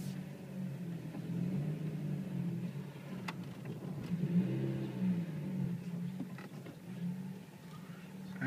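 A GM Ecotec-engined car with 236,000 kilometres creeps up onto ramps, its warmed-up engine giving a low steady rumble with slight rises as it climbs, close and continuous.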